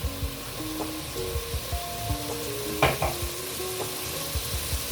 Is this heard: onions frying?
yes